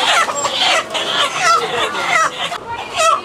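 Sonali chickens at a rainy-day market in Ullapara cluck and squawk close by in a rapid series of loud, overlapping calls.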